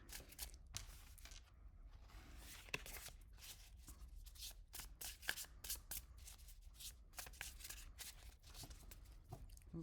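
A tarot card deck being shuffled up close: rapid crisp riffling bursts and soft slaps repeating throughout, with no talking.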